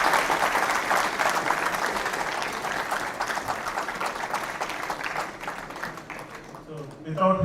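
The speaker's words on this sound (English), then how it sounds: "Can we give one huge round of applause" A large conference audience at a technical event gives a long, full round of applause for an organizer, steady dense clapping that thins out before a voice cuts in at the end.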